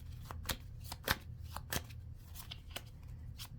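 Tarot cards are shuffled by hand in a quiet room, giving soft riffling rustles broken by several sharp snaps and taps as the deck is cut and handled.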